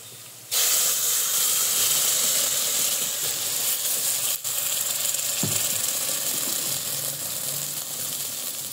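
Loud, steady sizzling hiss starts abruptly as wet ground masala paste hits a hot pan, crackling continuously with a brief clatter midway.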